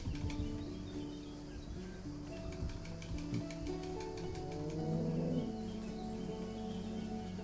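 Cows low and moo in the cozy farming video game EverDream Village, giving drawn-out, quiet, tonal calls with faint bird chirps in the background.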